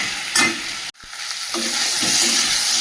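Fish pieces fry with spices, a loud continuous sizzle with brisk stirring scrapes, cut by a brief hush before the hiss swells back.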